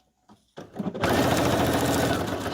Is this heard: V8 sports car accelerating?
no